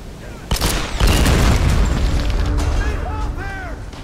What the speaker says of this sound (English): They blow up the mine there.